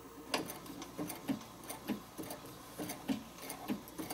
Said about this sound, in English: we are going to stitch somewhat slowly